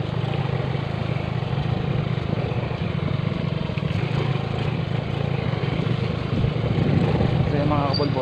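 Motorcycles riding a rugged road, a continuous broad engine drone with road rumble throughout, moderately loud and steady, with occasional voices underneath.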